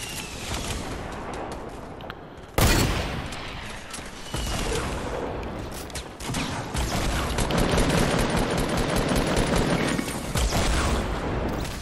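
Rapid video-game gunfire fills the stretch, dense bursts of automatic shots with booming blasts, loud and continuous after a sharp hit near the start, with no talk over it.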